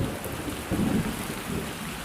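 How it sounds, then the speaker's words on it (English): Steady rain falls on a gray, gloomy day, a dense continuous wash of patter with a soft low rumble of distant thunder swelling briefly in the middle, with no voices. "today is a gross, gray, rainy day"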